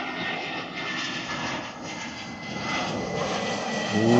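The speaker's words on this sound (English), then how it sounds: "Love watching a couple of planes land." An EasyJet passenger jet approaches to land over Lanzarote, its engine roar a steady, loud broadband rumble that swells slightly toward the end, heard alone without talk.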